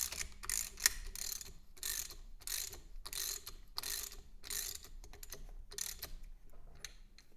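A ratchet wrench tightens a fastener on an MG TC generator, giving close, loud bursts of rapid clicking in a steady stop-start rhythm with no talking.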